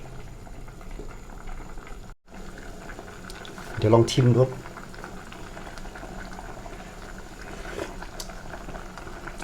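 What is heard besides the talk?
soup boiling in a pot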